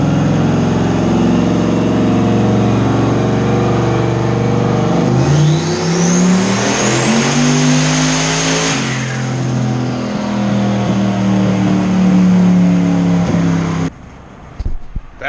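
Turbocharged 6-liter LS V8 swapped into a Buick Regal, running on a dyno with the exhaust fitted. Loud and close, it revs in a rising sweep, peaks and holds a hard roar for several seconds, then cuts off abruptly near the end.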